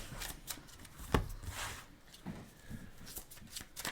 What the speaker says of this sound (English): Well, I'm going to still shuffle them all together.